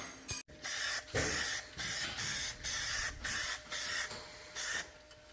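An aerosol spray can applies a first coat of paint to a model mill in a series of about eight short, loud hissing bursts with brief gaps between them, close and without talking.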